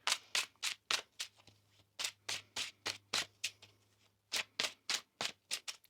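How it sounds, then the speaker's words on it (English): Tarot cards being shuffled by hand, a series of about twenty close, crisp riffling bursts in quick irregular rhythm with brief gaps, no voices. "One more shuffle here."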